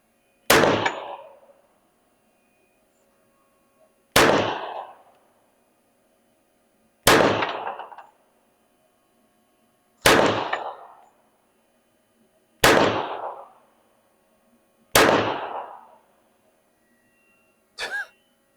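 Six loud, sharp pistol shots from a Hi-Point JHP .45, spaced roughly three seconds apart with ringing decay after each, followed by a shorter, fainter metallic clang near the end; no talking.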